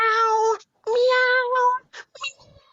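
A person imitates a cat, giving two long drawn-out meows followed by a couple of short, softer mewing sounds, close and clear.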